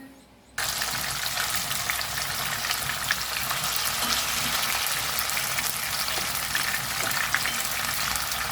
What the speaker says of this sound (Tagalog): Susunod na ipa-fried ko ang pork, ang tokwa